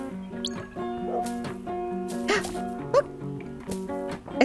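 A dog in the video game Donut County lets out several short yips and barks over a tonal, melodic game music bed, irregularly spaced and fairly close.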